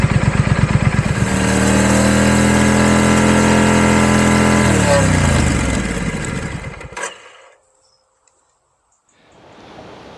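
A Triumph Scrambler motorcycle on its standard exhaust is held around 5,000 RPM, a loud, close, sustained engine tone that wavers slightly, then drops away and cuts out into near silence before faint background returns.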